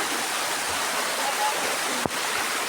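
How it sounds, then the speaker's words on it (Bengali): An artificial waterfall in an amusement park pours in a steady, close, full rush of falling water, broken only by a brief bump of handling noise. "এই ঝর্ণা, এই যে ঝর্ণা"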